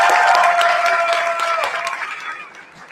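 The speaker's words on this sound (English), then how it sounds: "Clap it up for yourself." A hackathon audience breaks into loud, dense applause mixed with cheering voices and a whistle-like tone, then tapers off over a few seconds.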